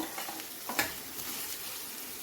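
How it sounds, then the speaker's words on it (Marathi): Chopped onion frying in a pan for green masala chicken, a soft steady sizzle with a few brief stirring scrapes and clicks, fairly quiet and close, with no voices. "आणि याला आपण व्यवस्थित फ्राय करून घेऊया"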